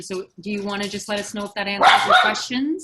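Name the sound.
dog barking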